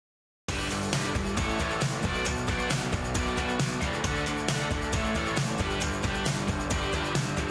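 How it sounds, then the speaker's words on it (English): A full stereo mix squeezed hard through an 1176 compressor in British mode with attack and release around 3, dense and loud with a slight pumping energy, starting abruptly after a brief silence. "So it adds a lot of energy to the mix because it pumps a little bit"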